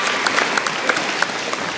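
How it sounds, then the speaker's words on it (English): A crowd applauding at a school Veterans Day assembly, steady clapping from many hands with a few sharper individual claps standing out, moderately loud and unbroken for the whole short stretch. "Everyone give another round of applause."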